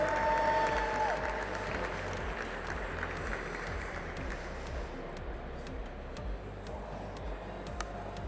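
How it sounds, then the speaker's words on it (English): An audience at the 2022 US Barista Championship in Denver applauds a competitor's espresso course, a dense, steady wash of clapping, fairly distant and even throughout, with a few sharper individual claps near the end. "let's give Maja a big round of applause for her espresso course"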